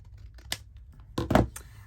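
Scissors trim a piece of scrapbooking paper in a few short, close snips, with quiet crisp cutting sounds clustered near the end and no talking.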